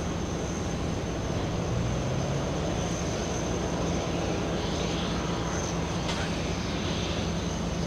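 Boeing 767 airliner taxiing across runway 4 Left at JFK airport, a steady broadband jet engine roar holding at a constant level throughout, with distant airport noise mixed in.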